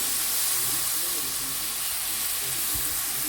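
Chopped eggplant sizzles and fries in hot oil, a steady close hiss with faint stirring clatter and a soft knock, quiet throughout with no voice.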